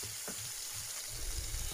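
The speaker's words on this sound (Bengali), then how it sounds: "ঢাকনা লাগিয়ে গ্যাসের ফ্লেম কম করে ভালো করে চিকেনগুলোকে ফ্রাই করে নেব" Chicken pieces for kathi kebab fry under a lid in a covered pan over a low gas flame, giving a steady close sizzle with soft pops that swell slightly toward the end.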